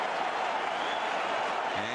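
A sellout crowd of more than 42,000 at Great American Ballpark stirs into a steady, broad roar of cheering and applause that holds level throughout, with a voice briefly heard at the end.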